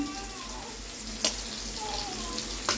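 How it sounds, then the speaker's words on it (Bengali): Potatoes frying hard in a pan over high gas with turmeric and salt, a steady close sizzle running throughout with a couple of brief sharp clinks of a spatula against the pan. "গ্যাসটাকে জোরে দিয়ে আলুটাকে ভালো করে ভেজে নেব।"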